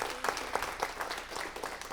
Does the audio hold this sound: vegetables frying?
no